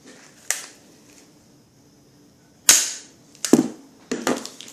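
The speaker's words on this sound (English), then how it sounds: "Nerf gun." Nerf Zombie Strike toy blaster firing: a sharp snap, then a louder crack about two seconds later, followed by two quicker clattering pops, each short and close, with quiet between them.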